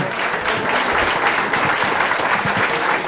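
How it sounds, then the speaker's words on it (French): Audience applause for a contestant at an oyster-opening competition in Charente-Maritime, a steady, dense wash of many hands clapping that holds evenly for the whole stretch. "Que vous pouvez applaudir également"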